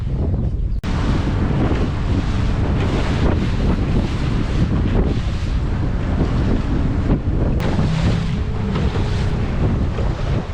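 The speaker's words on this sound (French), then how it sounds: "franchement il y a trop de vent là" Strong wind buffets the microphone in a constant roar while fishing, with water and waves churning underneath; no one speaks.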